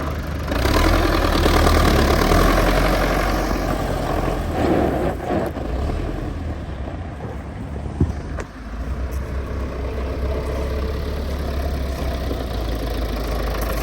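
A Belarus 82.1 tractor's diesel engine idles evenly and close by in a steady low chug, with a few faint knocks and clatters along the way.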